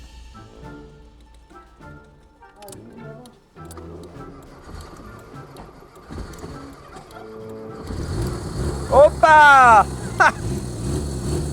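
A car engine running on cooking oil cranks and catches, rising from low rumbling to a louder steady idle, with a sharp revving surge near the end as a man exclaims over it.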